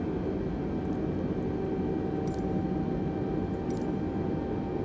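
Steady, droning engine hum of an Airbus heard from the cockpit in Microsoft Flight Simulator, a constant low rumble with a faint whine and a few brief high clicks.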